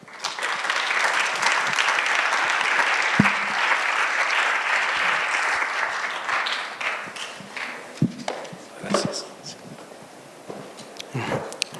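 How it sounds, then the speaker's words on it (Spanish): An audience at an international scientific symposium at CULagos applauds to welcome a speaker, a loud, sustained wash of clapping that thins into a few scattered claps and footsteps toward the end. "al doctor Gabriel Guillén Ruiz con un fuerte aplauso."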